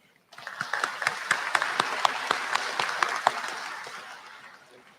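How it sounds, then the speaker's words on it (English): An audience at a high school graduation ceremony bursts into a round of applause that starts abruptly, carries sharp individual claps over a steady clatter, then gradually fades out. "Please join me and give them a round of applause."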